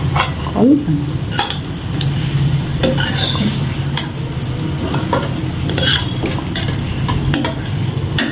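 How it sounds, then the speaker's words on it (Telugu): A spoon scrapes and clinks around a pan of potato and tomato curry, irregular stirring strokes over a soft background sizzle, close and moderately loud. "కలుపుతూ ఉండాలి అలాగా బాగా టమాటీ ఆలుగడ్డ కలిసిన తర్వాత"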